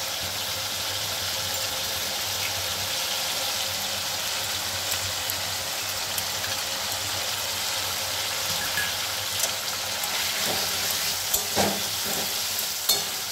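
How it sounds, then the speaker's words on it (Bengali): Crushed cashew paste sizzles and fries in a pan of water chestnut curry, a steady broadband hiss with occasional scraping stirs and small pops near the end, heard alone without voices. "আমি এবার কাজু পেস্ট দিয়ে দিচ্ছি। ক্রাশ করা কাজুটা দিয়ে দিচ্ছি।"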